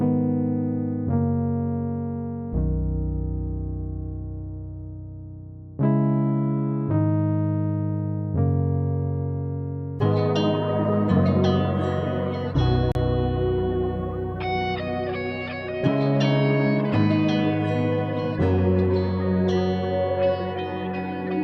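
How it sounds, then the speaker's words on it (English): Electric keys play the Sky Keys Everything Right preset, starting with sustained bright chords, then thickening into a denser, echoing melodic pattern of layered notes, loud and alone. "And now for the keys, I want to go into Sky Keys. And let's try out this Everything Right preset."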